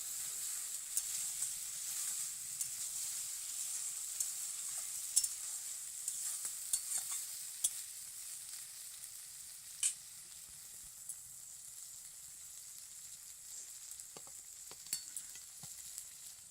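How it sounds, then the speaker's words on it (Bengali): Small fish cooked with taro stolons being stirred in a pan, a steady close sizzle with scattered sharp scrapes and clicks of the spoon against the pan throughout. "এখন নেড়ে চেড়ে আমি নামিয়ে নেব"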